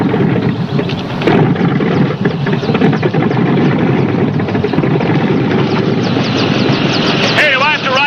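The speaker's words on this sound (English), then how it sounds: "Warm up the Copter." Helicopter engine warming up in a loud, steady, close roar that runs throughout, with voices briefly audible near the end.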